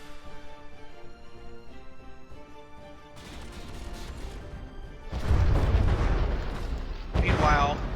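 Heavy naval cannon fire from battleships trading shells in the From the Depths combat game, with a sustained rumbling barrage that swells into loud crashing blasts in the second half, following a quieter stretch of tonal music.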